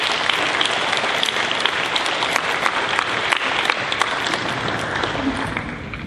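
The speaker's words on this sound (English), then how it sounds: "Let's have a round of applause for them." Sustained applause from an audience at an eighth-grade celebration, greeting new National Junior Honor Society inductees: a dense, even wash of many hands clapping, steady throughout with no talk.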